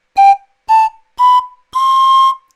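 Pan flute playing four breathy high notes in a row, the last held longest with its pitch sagging slightly at the end; close, clear and with no other sound.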